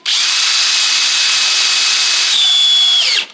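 A power drill bores steadily through the hard plywood back panel of a wooden chest of drawers, a loud, continuous whine that rises in pitch near the end before cutting off abruptly.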